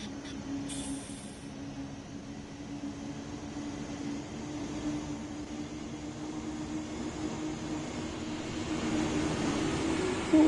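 A train passes on the Bremen–Oldenburg route in Train Sim World 3, a steady low rumble and hum that swells slightly toward the end, heard alone at moderate volume.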